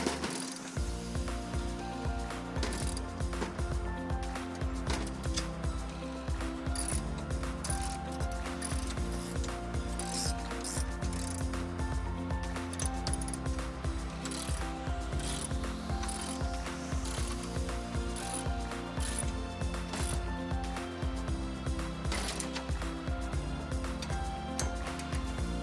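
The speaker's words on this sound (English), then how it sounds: "use a ratcheting socket to tighten down the set screw to hold the leg tubes in" A ratcheting socket tightens a set screw that holds the leg tubes of a Roll-A-Ramp RV ramp platform, making a continuous fast clicking close by for the whole stretch with no voices over it.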